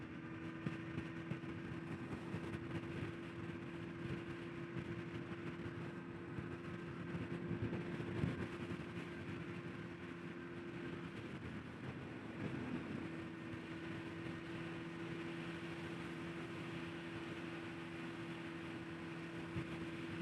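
A 2006 Honda Hornet 599 with an inline-four engine being ridden in traffic, producing a steady, faint engine drone with a constant tonal hum and wind rush throughout.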